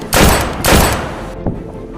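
Two loud bursts of gunfire in a stage drama, each a rattling blast about half a second long, followed by a fainter single bang.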